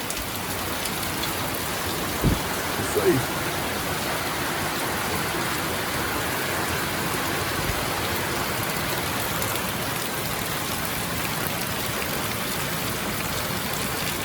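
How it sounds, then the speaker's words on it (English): Steady rain pours down outdoors near water, a dense continuous hiss of drops on surfaces, with a brief voice and a couple of knocks early on. "Your rainy weather is good for a lot of things."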